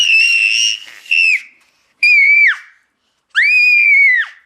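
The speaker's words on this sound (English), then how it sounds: "Why are you screaming?" A young child lets out three long, shrill screams close by, each one sustained and then cut off, with short pauses in between and no talk.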